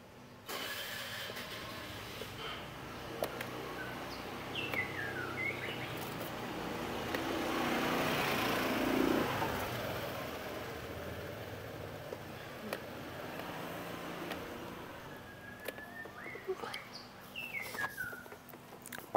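Scattered short bird chirps, a few at the start and a quick cluster near the end, over a steady background rumble that swells in the middle.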